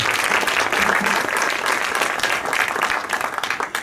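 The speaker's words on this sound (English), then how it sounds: "Round of applause for Operation Element." A theater crowd at the Los Cabos 2016 film festival applauds Operation Element, a thick, even roar of many people clapping close by that holds steady and starts tapering near the end.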